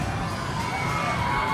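Sixth-grade students shout and cheer together at a school pep rally, a dense, continuous crowd roar of children's voices at a steady moderate level.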